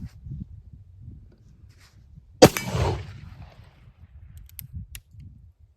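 An Uberti 1860 Army open-top revolver fires a single shot outdoors, one sharp blast that rings out and fades, with faint rustling and handling noise around it.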